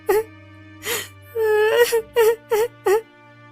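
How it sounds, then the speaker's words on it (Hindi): A woman wails and sobs loudly in an animated Hindi story, with long moaning cries followed by several short, sharp sobbing bursts close to the listener. "तभी राजकुमार और वो तोता उस स्त्री की रोने की आवाज सुनकर उसके पास जाते हैं।"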